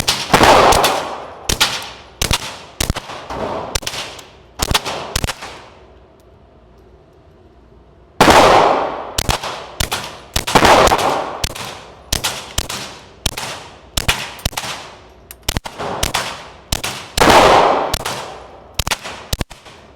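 A suppressed Glock 44 fires .22 subsonic rounds at a shooting range, giving sharp, loud, close cracks in rapid strings with a pause midway, then another quick series of shots; no talking.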